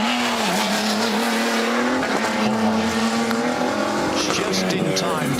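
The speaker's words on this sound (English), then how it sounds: "Just in time to catch that massive near 400 brake horsepower of the V8 driving through all of four wheels" A Toyota Gazoo Racing GR Hilux V8 rally truck with four-wheel drive blasts along a forest rally stage, engine loud and rising with tire squeal, while a commentator talks over it.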